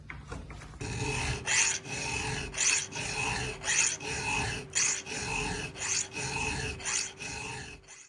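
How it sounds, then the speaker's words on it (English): A hand file rasps across a chainsaw chain clamped in a vise, repeated strokes in a steady rhythm, close and fairly quiet, with no talking. "I recently started making this chain vise for off the saw hand filing"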